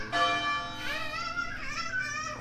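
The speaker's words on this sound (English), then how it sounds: "he's ringing the town bell there for the last little buff" A town bell in a video game rings out with a bright, ringing tone, a couple of strikes that hum and fade into one another.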